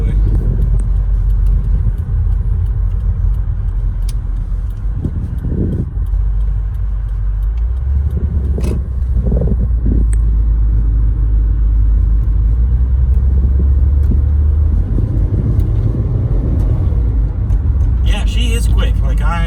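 A Subaru WRX with a CVT rumbles and builds as it accelerates on a straightaway, a loud steady drone from inside the cabin with someone talking over it.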